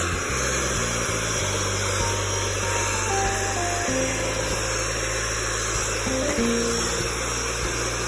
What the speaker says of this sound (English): I have 10 egg white that I beat it on the highest speed of the hand mixer